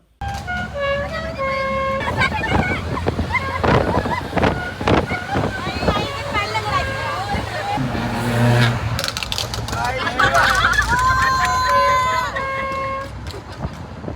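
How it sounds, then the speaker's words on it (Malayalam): Vehicle horns honk repeatedly on the road during an overtaking car drive toward Attappadi, sustained tonal blasts in the second half over road and wind noise, with people talking. "നമ്മൾ ഹോൺ അടിക്കും"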